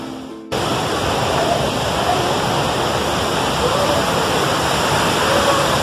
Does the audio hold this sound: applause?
no